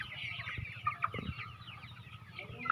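A flock of native tiger-breed chickens inside a shed on a large poultry farm clucks and murmurs continuously nearby, with overlapping soft calls and a few sharper squawks.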